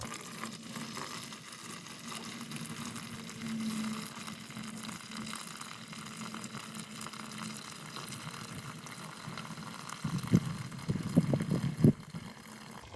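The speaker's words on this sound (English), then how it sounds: "Third pour. Go slow so it don't splash all over the place." Wood stain is poured slowly in a steady, soft liquid hiss, and a cluster of sharper splashy bursts comes near the end.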